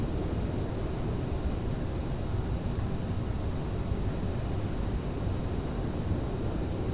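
Reverse thrust roar of a CRJ regional airliner in a flight simulator game during the landing rollout, a steady broadband engine rush held loud and even for several seconds with no voices.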